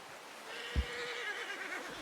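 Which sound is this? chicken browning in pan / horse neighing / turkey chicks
horse neighing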